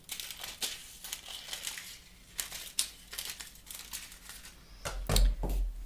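A crinkly sheet of silver hot foil being handled for a glimmer hot foil craft project, giving soft irregular crinkles and rustles up close that end in a louder bump near the end.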